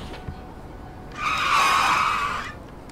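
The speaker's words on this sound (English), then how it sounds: "As we're nearly hit by a car." A car skids with a loud tire screech while nearly hitting the player in the video game Digimon Story Cyber Sleuth, swelling in and fading after about a second and a half over quiet game ambience.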